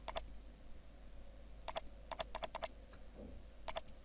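Keys on a computer keyboard are pressed during AutoCAD work, giving quiet, close, crisp clicks in short irregular bursts of single presses and quick runs with hushed pauses between them.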